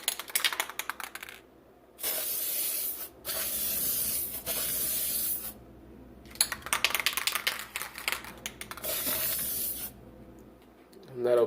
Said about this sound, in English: And you can just go ahead and paint.